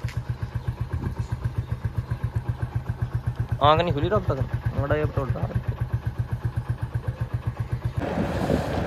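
A motorcycle engine idles at a steady, rapid throbbing pulse, close and loud throughout, while someone talks over it partway through.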